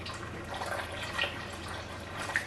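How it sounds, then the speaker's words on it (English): Cold water is poured into a pot of Niger-Delta style banga palm-nut soup, giving a soft, steady trickle with faint splashes, close and fairly quiet. "so I'm going to be adding a bit of cold water."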